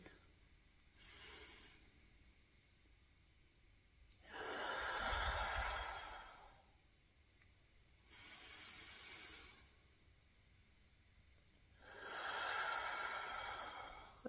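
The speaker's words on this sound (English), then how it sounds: "Nice, deep breaths. In and out, in through the nose, out through the mouth." Slow, deep breathing, in through the nose and out through the mouth, with soft breathy inhales alternating with louder, longer airy exhales, close and unhurried, with no talk.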